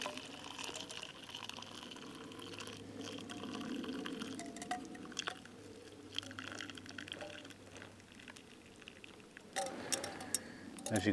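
Boiled camp coffee pours from a Trangia 27 pan during a woodland wild camp in the UK, a soft trickling, dripping stream with light metallic ticks, fairly quiet, with a voice speaking at times.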